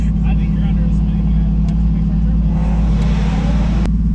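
A red Lexus IS300 runs loud and close in a street race against a Cadillac CTS-V, with a heavy, droning engine note, rising revs and a brief chirp near the end, under people talking.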